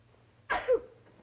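A single short sneeze, close and clear, rising sharply then trailing off against a quiet background.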